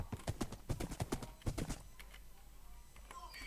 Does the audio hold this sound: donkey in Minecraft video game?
yes